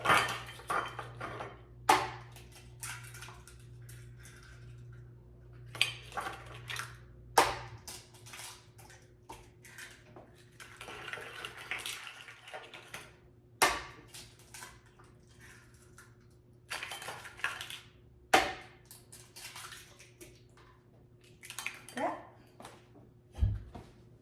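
Eggs cracked against a bowl rim one after another, sharp shell taps and clinks in a kitchen, with faint dripping of egg into the bowl between gaps and a low hum behind.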